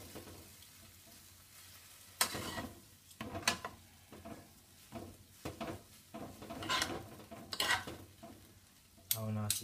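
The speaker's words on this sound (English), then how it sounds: "mix them with all the bacon." Pasta carbonara gets mixed with bacon in a pan, producing soft scraping, stirring and faint sizzling in irregular bursts, quiet and close.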